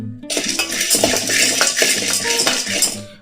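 Roasted gram dal stirred in a pan on a low flame, with dense metallic scraping and clinking of a spoon against the pan throughout, loud and close with no talk.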